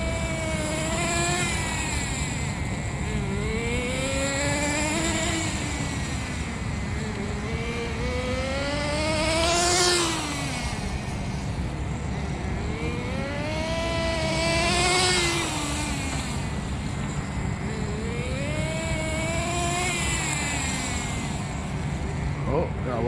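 HPI RS4 nitro RC car, stock and geared high, its small engine buzzing loudly throughout with repeated rising and falling pitch sweeps as it speeds past and away, close at times, with voices faintly underneath.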